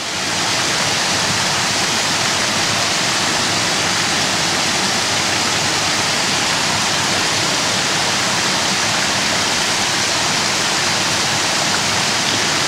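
Creek water rushes at Ricketts Glen State Park, a loud, dense, unbroken roar of flowing water close by with no voices.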